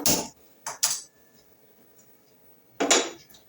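A cooking pot set down on a stove gives a few sharp metallic clanks: one at the start, a quick pair shortly after, and another near the end, close by, with quiet between.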